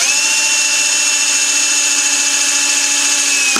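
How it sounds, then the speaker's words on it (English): A power drill whines at a steady high pitch, close and loud, boring holes through a plastic side panel of a Vectrix electric scooter without pause. "you need to drill 2 holes in the in this plastic side"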